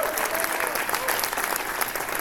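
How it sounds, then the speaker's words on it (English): Lively audience clapping at a student jazz club concert, thick and continuous over the short stretch, with scattered crowd voices beneath it. "Give yourself a round of applause for that."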